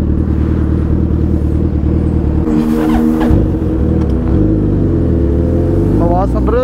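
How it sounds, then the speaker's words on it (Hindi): A Kawasaki Z900 motorcycle engine idles with a loud, steady rumble, then revs sharply in the middle and again near the end, all close by, with road traffic noise around it. "आवाज सुन रहे हो Z900 की?"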